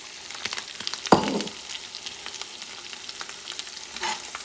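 Beans with Mexican chorizo and a splash of beef stock stirred in a frying pan: a steady soft sizzle throughout, with one sharp utensil scrape against the pan near the start and lighter scrapes later, close and moderately loud, no talking.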